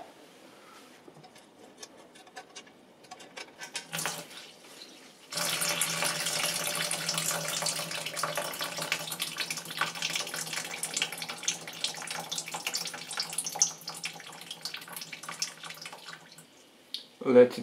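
Water gushes steadily from the opened sump drain plug of a 2007 Peugeot Partner 1.6 HDi diesel engine, a continuous splashing pour that starts abruptly, runs for about twelve seconds and then stops, with quiet handling noises before and after.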